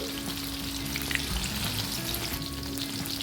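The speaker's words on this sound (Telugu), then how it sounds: "రెండు వైపులా కూడా మంచి గోల్డెన్ బ్రౌన్ కలర్ వచ్చేంత వరకు ఫ్రై చేసుకోవాలి క్రిస్పీగా ఫ్రై చేసుకోవాలండి" Prawn pakoda deep-frying in hot oil makes a constant crackling sizzle, close and fairly loud, with faint bubbling beneath and no voices.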